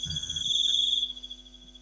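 A cricket chirps in a steady high trill, thin and continuous, with faint low background hum and no voices over it.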